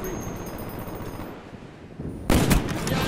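Gunfire in a Black Ops shooter game, a sniper-focused match, with dense rumbling battle noise giving way to a sudden loud burst of shots near the end.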